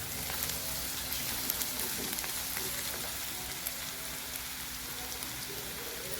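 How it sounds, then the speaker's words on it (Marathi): Onion frying in a pan until reddish gives off a steady, close sizzle with fine crackling pops throughout, no voices over it. "असं कांदा छान तळून घ्यायचं लालसर रंग येईपर्यंत."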